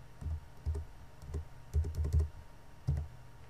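A number keyed into a spreadsheet on a computer keyboard: a handful of close, soft keystrokes in small uneven bursts with short pauses, no talk over them.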